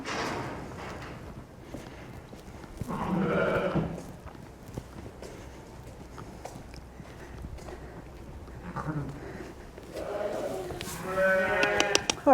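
Sheep bleat in bursts around a lambing pen, the calls close and separated by quieter stretches with footsteps and rustling, and one loud, wavering bleat near the end.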